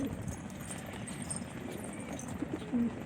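Racing pigeons coo faintly during an evening feeding after being brought down from flight, with low murmuring calls and some shuffling over steady background noise.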